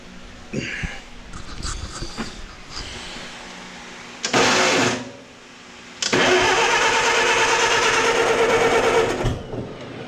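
An International 300 tractor engine cranks and sputters while trying to start, with a short loud burst mid-clip followed by a longer, steady roaring run that cuts off near the end.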